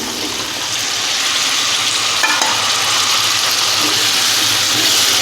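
Washed potatoes tumble into a pan of spices sautéed on low heat for a brinjal-potato curry, raising a loud, steady sizzle with stirring scrapes that holds close and continuous throughout.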